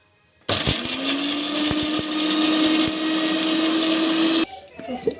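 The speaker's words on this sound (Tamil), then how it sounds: "இப்போ வந்து பார்த்திங்கன்னா மிக்சியில் போட்டு அரைச்சிடலாம்" Kitchen mixer grinder blending dal, chili, tomato and garlic for rasam, a steady loud whirring drone running about four seconds before cutting off abruptly, close up.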